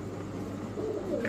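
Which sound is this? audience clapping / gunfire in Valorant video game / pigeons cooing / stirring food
pigeons cooing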